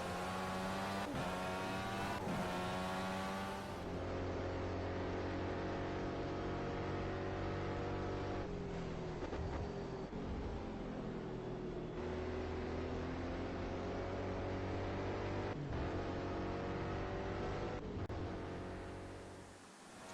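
An Indycar drives into turn 5 at Laguna Seca, its engine screaming at high revs with gear changes and downshifts into the corner before climbing again, loud and close with a steady onboard drone throughout.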